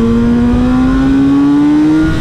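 A BMW S1000R motorcycle engine revs loud and close with a steadily rising pitch, a bright, strained whine held for about two seconds.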